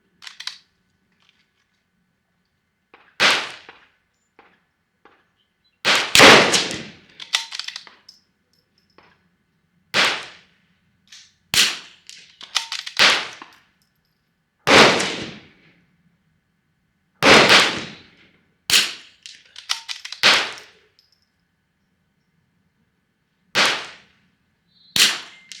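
Rifle firing Lapua Long Range ammunition through a Voodoo suppressor at 100 yards, with two five-shot groups: a series of sharp, loud, isolated cracks spaced several seconds apart over quiet.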